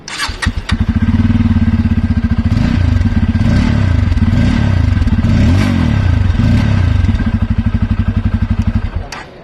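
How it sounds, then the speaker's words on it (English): A Bajaj Pulsar 250 motorcycle engine fires up close by and revs with a deep, throbbing bassy exhaust, rising and falling several times before cutting off. "Nice bassy exhaust note,"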